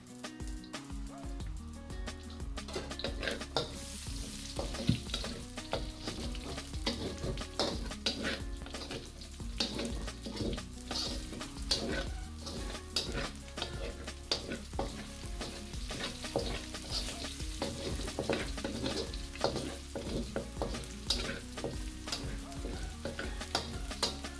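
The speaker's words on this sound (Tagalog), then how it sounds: "Using the same wok, let's saute the garlic." Garlic sautéing in a wok for sweetened pork with tomatoes, a steady crackling sizzle under frequent scraping and stirring strokes of a utensil against the metal, close and continuous throughout with no talking.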